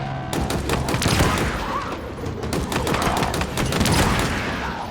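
Shock rifles in Halo Infinite fire in a loud, dense volley of rapid bursts and crackling shots that continue throughout, with no speech.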